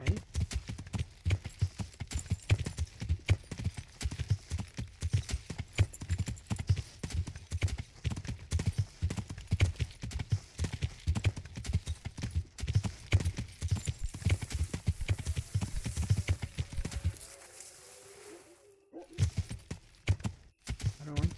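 A horse walks steadily through a video game world, hooves clip-clopping in a dense, regular rhythm up close, with a brief neigh-like sound and a drop to near silence toward the end.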